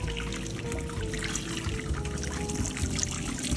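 Sparge water is poured from an orange cooler through a perforated spreader over the grain bed in a Grainfather during a German Helles homebrew. It makes a steady, continuous splashing trickle over a faint electrical hum.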